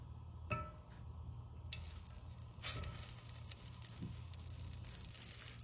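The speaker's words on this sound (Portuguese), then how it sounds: "eu vou começar aquecendo a panela e colocando uma pontinha de margarina ou manteiga" A dab of margarine starts to sizzle in a heating pan, a soft, steady frying hiss that rises after a couple of utensil taps, with a louder clink partway through.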